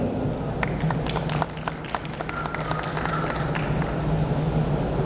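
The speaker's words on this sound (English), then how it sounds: "I want you all to give a big round of applause" Conference audience applause, scattered individual claps picking up into a moderate, spread-out clapping from a seated crowd, heard at a slight distance in a large room.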